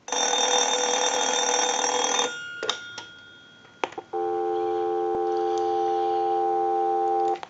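A repaired telephone receiving signals from a line analyzer: a loud bell ring, a few clicks, then a steady, loud dial tone that holds for about three seconds before cutting off.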